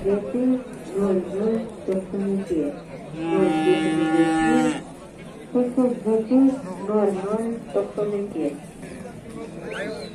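Cattle at the Toktogul livestock market lowing, with one long, loud, close moo in the middle among scattered shorter calls, under steady nearby talk and crowd chatter.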